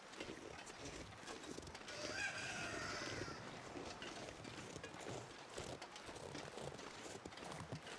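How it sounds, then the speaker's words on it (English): A rooster outside an open window crows once in a long strained call, heard at a moderate distance over faint outdoor background noise. "windows are open and rooster's outside the window crowing at me."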